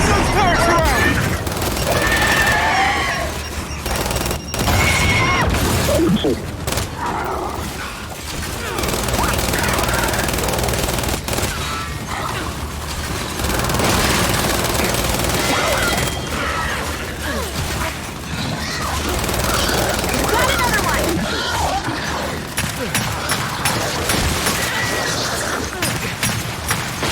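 Turret gunfire in the video game Gears 5 pounds in dense, continuous bursts with crashing impacts, under shouting voices.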